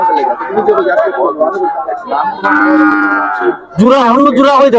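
Cattle moo loudly and repeatedly amid a busy crowd at a cattle market in Bangladesh, long drawn-out lowing calls overlapping with people chattering nearby.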